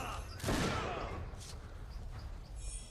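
Pistol gunfire in an Xbox 360 video game, a sharp loud burst near the start followed by fainter echoing shots and game noise, with a voice speaking over parts of it.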